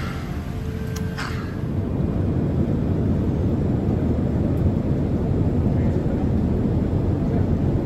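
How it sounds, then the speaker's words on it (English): Steady airplane cabin noise during flight, a loud, even broadband roar that holds throughout, with a faint brief chime near the start. "So we're here inside the airplane."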